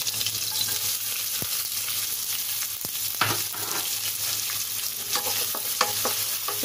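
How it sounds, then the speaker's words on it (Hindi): Chopped onions fry in oil with cumin and red chili in a pan for a bottle gourd sabzi, giving a steady sizzle with occasional sharp stirring scrapes and clicks, close and continuous, with no talking. "इसे हमें ब्राउन नहीं करना है, बस थोड़ा सॉफ्ट होने तक इसे हमें फ्राई करना है"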